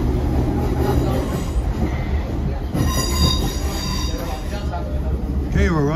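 Onboard an Irish Rail Class 8100 electric multiple unit arriving at Dublin Connolly station, with a loud steady rumble of wheels on track, squealing flanges throughout, and a rising-falling brake squeal near the end.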